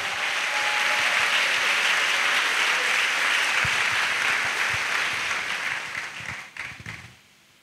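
A crowd applauds loudly and steadily, a dense wash of clapping that thins out and fades to a few scattered claps at the end.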